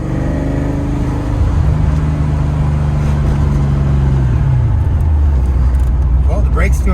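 1991 Ford Mustang with a 5-speed manual driving steadily, its engine drone rising and falling through a gear change beneath someone talking in the cabin.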